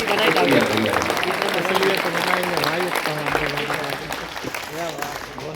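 A crowd at a Martyrs' Day poetry recital applauds, sustained clapping under a voice speaking over it throughout.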